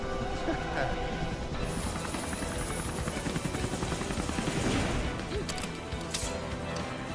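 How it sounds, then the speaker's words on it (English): A helicopter in an animated Death Battle between Lara Croft and Nathan Drake, a continuous loud chopping rotor drone mixed with clattering action effects, while people talk over it. "Blow up the chopper."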